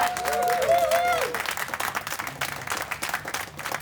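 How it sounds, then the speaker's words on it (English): Audience applause for Tim Hammond at an Intact Global rally, sustained dense clapping throughout with a brief whistle or whoop at the start and crowd noise underneath. "Let's give a big round of applause to Tim Hammond."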